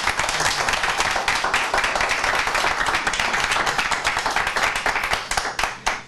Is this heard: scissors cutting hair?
no